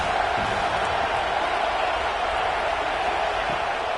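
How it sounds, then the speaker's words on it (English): Steady, dense roar of an Ohio State Buckeyes football crowd in the NCAA 26 game, a continuous wash of cheering noise with no distinct peaks. "the Buckeye crowd alive on 3rd down"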